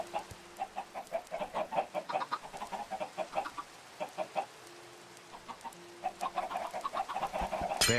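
A run of Minecraft chicken clucks repeats steadily in quick bursts, several birds overlapping at moderate volume, with a short pause midway before the clucking resumes.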